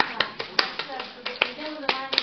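A single pair of hands claps in a slow, steady rhythm, about ten crisp claps at close range, with faint speech between them.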